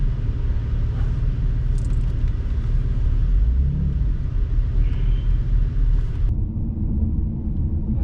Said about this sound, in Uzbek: Ovozi bor motor.